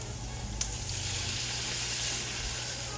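White wine poured into a hot pan for lobster pasta gives a steady, close hissing sizzle that fills the whole moment, with a low hum underneath and no talking.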